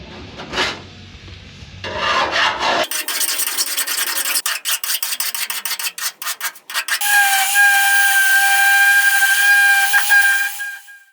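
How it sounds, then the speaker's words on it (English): Hand file rasping on a Firebird deck lid, rapid repeated scraping strokes up close, with bursts of grinding and a sustained high whistle-like hiss later on, no talking. "I'll hit the rest of this with a file."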